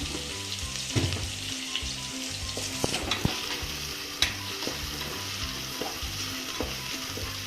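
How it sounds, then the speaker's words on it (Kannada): Onions with a pinch of salt frying in oil in a pan, a constant crackling sizzle with scattered clicks and scrapes of stirring, close and steady with no voices. "ಈರುಳ್ಳಿ ಬೇಯುವಾಗ ಸ್ವಲ್ಪ ಉಪ್ಪು ಹಾಕಿದ್ರೆ ಈರುಳ್ಳಿ ಬೇಗ ಬೇಯುತ್ತೆ."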